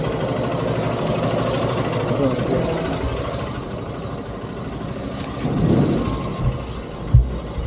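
A motorcycle engine idles steadily nearby, with a brief revving swell and a sharp knock near the end.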